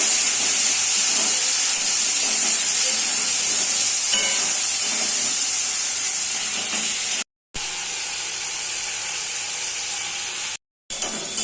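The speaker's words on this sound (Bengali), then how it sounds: "পেঁয়াজ, টমেটো, আদা পেস্ট, রসুন পেস্ট যখন ভালো করে ভাজা হয়ে গেছে" Onion, tomato, ginger paste and garlic paste fry in oil with dried red chilli and five-spice, making a loud, steady hissing sizzle with two brief dropouts.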